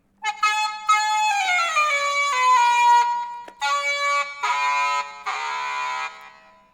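A Roland Aerophone AE-20 electronic saxophone on its AE hard lead setting plays bright, buzzy sustained synth-sax notes, several held tones and shifting pitches, loud and close with short gaps between phrases.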